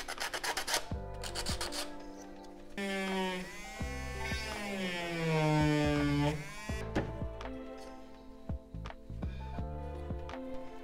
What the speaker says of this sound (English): I'm using a very fine sanding paper, just brushing up all edges and wherever there are imperfections.